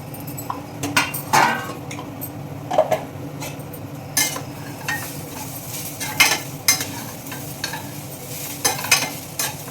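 Cooked snake gourd pieces tipped into a pan of tempering and stirred, a spoon repeatedly clinking and scraping against the metal pan over a low steady sizzle, with no voices.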